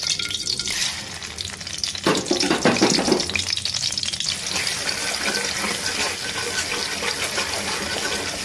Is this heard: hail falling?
no